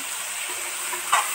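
Cauliflower and chicken curry being stirred in a frying pot: a soft, even sizzle and hiss, close by, with one brief scrape of a spoon near the end.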